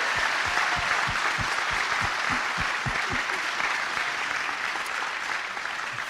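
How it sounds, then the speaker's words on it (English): Crowd at a collegiate honor society induction ceremony giving the new inductees a round of applause, sustained loud clapping with a few distinct near hand claps standing out early on. "Please give yourselves another round of applause."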